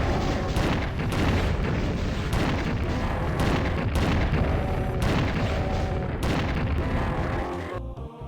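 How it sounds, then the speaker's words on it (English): Rocket launcher explosions in Doom II, a dense string of booming blasts and thuds firing in quick succession, loud and relentless before tapering off at the end. "I'm going to use the rocket launcher"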